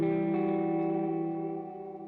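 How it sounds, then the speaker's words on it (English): Guitar played through the delay effect in Bias FX 2 Mobile, set so it smears into a reverb-like wash: one sustained chord rings with layered echoes and slowly fades over about two seconds. "more of like a reverb sound than a delay sound"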